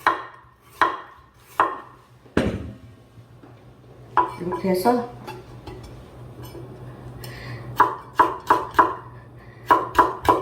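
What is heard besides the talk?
knife slicing carrots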